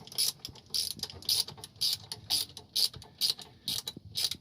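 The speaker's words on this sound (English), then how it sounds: "here I am, bolting up the transmission mount, getting it ready" A ratchet wrench bolts up the transmission mount during a 5.3 Gen 3 LS swap into a GMC Sonoma pickup, giving about ten quick bursts of close metallic clicking in a steady back-and-forth rhythm, with no talk.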